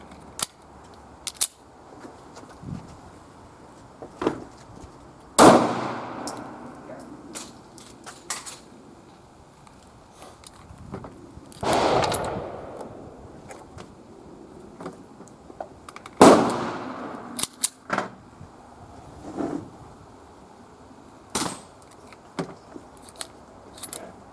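Taurus GX4 pistol shots fired outdoors during an ammunition test ring out as three sharp, echoing reports spaced several seconds apart, with light clicks and rattles between them.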